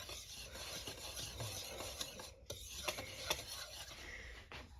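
A spoon or spatula scrapes and rubs steadily through sugar cookie dough as baking soda and baking powder are mixed in, a soft close gritty stirring with a few sharper clicks.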